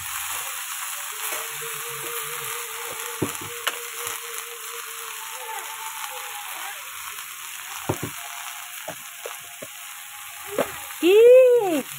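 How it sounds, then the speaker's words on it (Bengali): Leafy greens fry in a hot pan with a thin, continuous hiss, scattered knocks and clatters, and a brief tonal whine near the end. "তো এই দেখো শাকটাকে আমি ঢেলে দিচ্ছি।"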